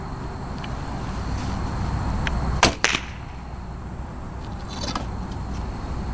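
A longbow arrow strikes a burlap target with a sharp double smack, followed by fainter knocks later. There is steady outdoor background noise and no speech.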